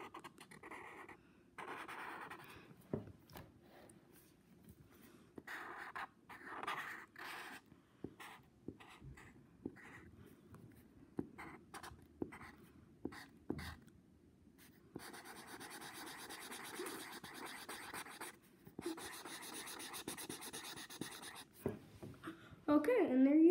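A pen scratches across paper while someone draws legs on a figure. The strokes are short and uneven, with pauses between them, and they sit under quiet talk. Longer, denser scratching comes near the end.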